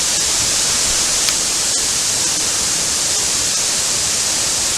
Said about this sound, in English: we've managed to get into the bottom of the waterfall now